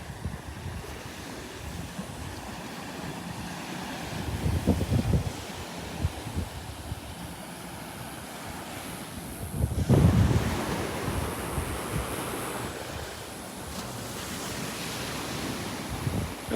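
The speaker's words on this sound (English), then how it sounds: "Little bit of a breeze out here now, picking up." Breeze blowing across a beach with surf behind it, a continuous rushing wind noise with stronger gusts buffeting the microphone around the middle, fairly loud and steady.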